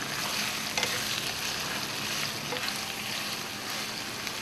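Chopped banana heart simmering in a pot for a vegetable kare-kare stew makes a dense, continuous sizzle and bubbling hiss at a steady loudness, with a few faint knocks of stirring.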